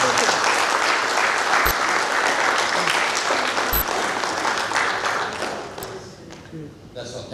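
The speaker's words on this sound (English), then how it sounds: "Let us give them a big round of applause." A dense wash of audience applause closes a cyber security session, steady and fairly loud, then thinning toward the end as scattered voices come through.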